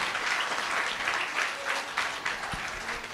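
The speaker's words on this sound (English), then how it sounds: "let's give another round of applause" A school-event audience in Buffalo breaks into steady applause, a dense, moderately loud wash of clapping lasting a few seconds with no talk over it.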